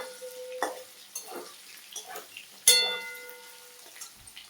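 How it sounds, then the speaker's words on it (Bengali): Soft frying of potatoes in a pan with occasional spatula scrapes and one sharper clatter, quiet and close, no one talking. "আলুগুলো মোটামুটি ভাজা হয়ে এসছে, এখনো লাল হয়নি, আর একটু লাল হবে।"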